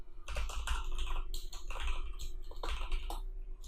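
Quick keystrokes on a computer keyboard clatter in an irregular, busy rhythm, close and fairly clear over a low steady hum, with no voice.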